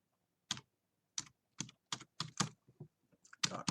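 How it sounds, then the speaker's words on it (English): A computer keyboard is typed on in short bursts of crisp, close key clicks, about a dozen strokes in an uneven rhythm separated by brief silences. "If I type in my name"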